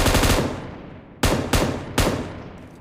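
Automatic weapon fire in a shooter video game, including an M249, comes as a long loud burst followed by three sharp, separate bursts, each decaying quickly, with no talking.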